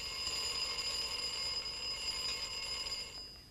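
A continuous, bright metallic ringing of an alarm clock bell, sustained and fairly faint, fading slightly at the very end.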